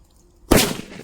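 A Kannan brand firecracker from Sivakasi bursts once after a quiet moment. It is a single sharp, loud bang close by that quickly fades into a short rumble.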